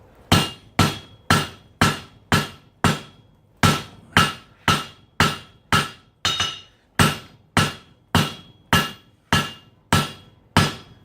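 A blacksmith hammers hot Damascus steel at welding heat, a steady series of about twenty sharp ringing blows at an even rhythm, loud and close with no talk.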